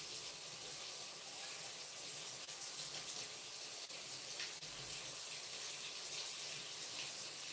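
Hot water runs steadily from a kitchen tap, a continuous close-up hiss and splash of the stream with no talking.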